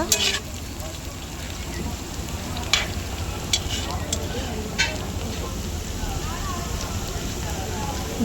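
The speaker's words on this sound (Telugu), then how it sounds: "జీడిపప్పును కూడా కొద్దిసేపు ఫ్రై చేసుకోవాలి" Cashews fry with onions and green chillies in a pan for chicken liver fry, giving a steady soft sizzle with a few sharp clicks from stirring.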